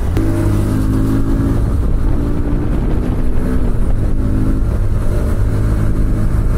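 A motorbike ridden on an outing with friends runs with a loud, steady engine drone and heavy wind rush throughout, with no pauses or clear gear changes.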